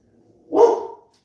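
A single dog bark, short and fairly close, rings out in a quiet room at someone walking past the house.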